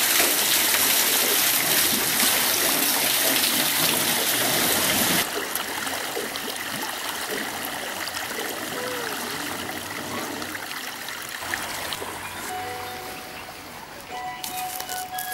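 Water runs steadily from a traditional Pothwari well in Pakistan, a continuous rushing flow that is louder at first, then settles into a softer trickle for the rest.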